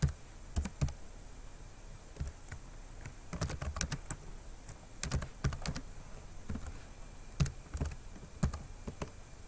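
Someone types a dpkg install command on a computer keyboard: irregular bursts of crisp key clicks, sometimes in quick runs and sometimes single taps, close and clear against a quiet room.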